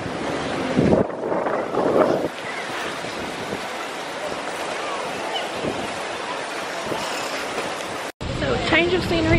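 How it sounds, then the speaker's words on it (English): Ocean surf washes against a beach under heavy wind buffeting the microphone, a loud continuous roar with a brief cutout near the end. "Going to the beach now."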